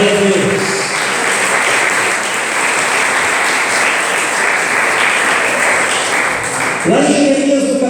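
Church congregation applauding the Messiah at a Portuguese-language service, steady dense clapping filling the room for several seconds, with voices rising over the applause near the end.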